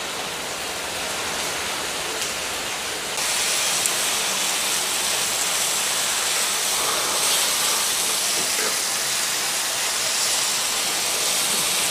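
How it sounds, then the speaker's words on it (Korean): Kimchi stir-fries in a pan with a steady, broad sizzling hiss that grows louder a few seconds in and then holds constant, close with no talking. "김치를 볶아서"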